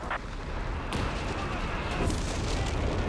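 M5 barrage artillery fire in Company of Heroes 3 during a 2v2 match, with distant booms and a dense rumble of explosions under game noise and commentary.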